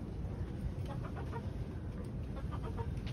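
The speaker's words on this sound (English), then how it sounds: "You're a sweet little hen, though." A small hen in a backyard flock gives soft, quick clucks in short bursts over a low rumbling background, faint and close, with no voices.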